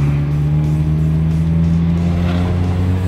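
Manual-transmission car pulling away in second gear after a smooth clutch release during a driving lesson, a loud steady engine hum heard from inside the car with no talking.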